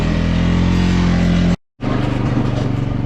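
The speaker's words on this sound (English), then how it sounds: "I stopped and it downshifted" Excavator engine rumbling steadily up close, with a short gap of silence before it picks up again at a slightly changed pitch.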